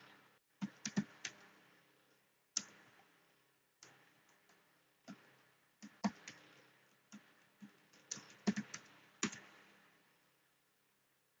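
Commands being typed on a computer keyboard, sparse clusters of quiet key clicks and taps with pauses between bursts, close and alone.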